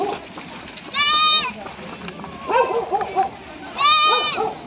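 Goats and sheep bleat repeatedly while being herded across the busy Satara highway, with loud harmonic cries in bursts over steady traffic rumble.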